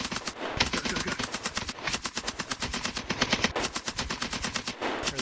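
Sustained automatic suppressing fire in a video game firefight, a long rapid rhythmic stream of loud close shots with brief gaps between bursts.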